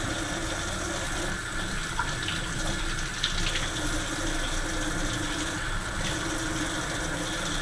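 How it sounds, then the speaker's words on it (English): Tap water runs into a kitchen sink as items are washed, a steady close rush of flowing water with faint clinks and handling noises, continuing throughout. "I'm just gonna wash all of them."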